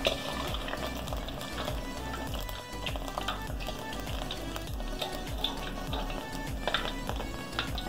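Pholourie batter fries in hot oil, giving a continuous crackling sizzle at low volume, with occasional spoon stirs and light clinks of the pot.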